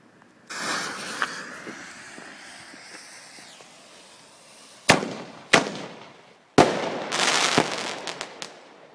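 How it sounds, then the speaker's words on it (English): Bonfire night fireworks are let off outdoors in light rain: a rising hiss and crackle gives way to several sharp, loud bangs, followed by bursts of crackling that fade out. "We've got the last two fireworks here. I'll attempt to let them off in sync."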